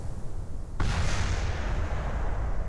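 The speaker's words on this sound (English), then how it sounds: "That explosion you heard was part of the other part of the ship." Part of a spaceship exploding in Kerbal Space Program: a sudden sharp blast after a brief quiet stretch, followed by a heavy, rumbling roar that sustains loudly to the end.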